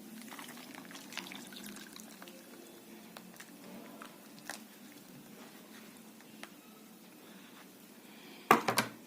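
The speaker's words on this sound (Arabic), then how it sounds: "هحط عليهم بقى كوبايتين عصير طماطم" Two cups of tomato juice poured over a tray of mackerel, a soft continuous trickling pour with faint patter, quiet and close, ending in a brief louder clatter.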